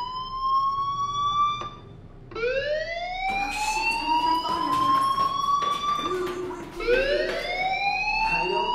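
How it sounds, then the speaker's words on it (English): A rising, wailing fire alarm from the video game Life is Strange repeats several times, each sweep climbing in pitch, loud and steady against faint background noise. "Hey, do you hear that fire alarm?"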